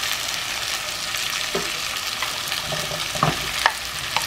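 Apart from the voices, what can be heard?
potatoes frying and sizzling in a pot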